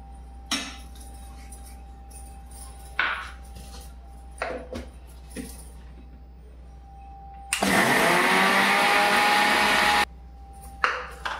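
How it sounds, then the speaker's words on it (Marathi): A mixer grinder grinds poha (flattened rice) into coarse powder in one loud, steady burst of about two and a half seconds, preceded by a few scattered clinks and taps. "सगळ्यात पहिले आपण पोहे बारीक करून घेऊ मिक्सरच्या भांड्यामध्ये।"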